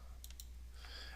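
Quick pair of computer mouse clicks, a right click in 3D editing software, close and faint, followed by a soft higher click-like tick, with no talking.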